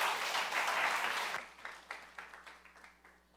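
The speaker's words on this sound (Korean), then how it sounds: "우리 한번 환영하는 박수를 한번 드렸으면 좋겠습니다" A church congregation gives welcoming applause during a worship service, a full burst of clapping that thins out into a few scattered, separate claps as it fades.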